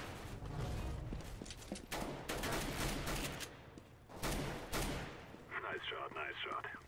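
Gunfire from the video game CS:GO, a run of sharp broadband shots in several bursts across the clip, loud and close, with a voice talking underneath.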